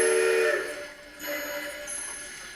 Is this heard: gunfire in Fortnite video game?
no